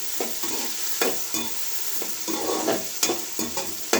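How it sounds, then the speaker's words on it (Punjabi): Onions and green chillies frying in a pan while being stirred, a steady sizzle with repeated scraping strokes of the spoon at a close, moderate level, no talking. "ਹੁਣ ਅਸੀਂ ਇਹਨੂੰ ਚੰਗੀ ਤਰ੍ਹਾਂ ਹਿਲਾ ਲਾਂਗੇ ਤਾਂ ਜੋ ਸਾਡੇ ਪਿਆਜ਼ ਲਾਲ ਹੋ ਸਕਣ"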